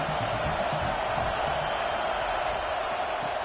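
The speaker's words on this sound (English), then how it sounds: "This crowd trying to make life miserable for this offense." Stadium crowd in a college football video game, Oklahoma vs LSU, a constant broad roar that stays steady and dense for the whole stretch with no distinct voices standing out.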